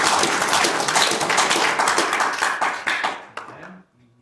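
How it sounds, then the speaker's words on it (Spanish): A church congregation claps hands together in a dense, rhythmic burst of applause that thins out and stops near the end, with a voice briefly audible afterward. "Me alegro cuando usted le da palmas al Señor."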